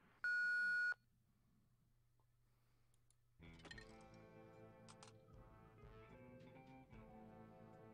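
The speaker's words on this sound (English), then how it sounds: "please record after the beep." A single short electronic voicemail beep sounds in the video game Thimbleweed Park, followed by quiet game ambience and then brighter musical tones.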